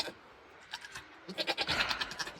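A loose goat on a farm bleats in a string of short, wavering cries, fairly close, the calls growing louder and more rapid toward the end.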